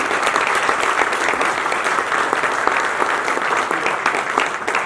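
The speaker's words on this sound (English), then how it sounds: "Could you guys give those guys a round of applause?" An audience at a Keizer ribbon-cutting event applauds the board members with continuous, even clapping from a room full of people, holding steady throughout.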